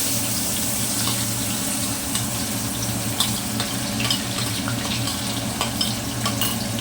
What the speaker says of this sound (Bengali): তেল আমার গরম হয়ে গেছে, এখন আমি পেঁয়াজ দিয়ে দেবো।